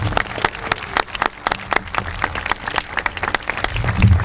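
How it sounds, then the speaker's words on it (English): An audience at a track dedication event applauds, with scattered individual claps forming a continuous round of clapping that swells slightly near the end. "Please give them another round of applause."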